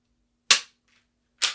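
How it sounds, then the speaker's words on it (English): Two sharp dry-fire clicks from a pistol trigger pull during practice, each a crisp snap with a short tail, spaced about a second apart and close by with no talk. "we're just going to pull the trigger as many times as we can"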